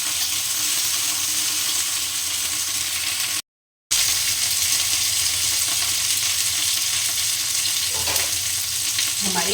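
Cauliflower pieces frying in a pan, producing a loud, dense, continuous sizzle heard close up, with a brief silent break partway through.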